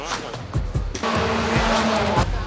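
A race car on a track revs hard and accelerates, its engine tone climbing steadily and holding loud and close over a brief rumbling start, with faint road noise beneath.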